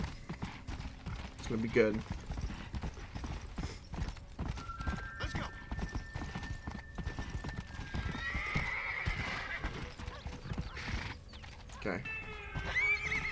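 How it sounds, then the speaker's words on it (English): In a farm scene in the video game Red Dead Redemption, horses clop along in a quick hoof rhythm and whinny now and then, with a person speaking briefly over the sounds. "We've got some horses to help the farm."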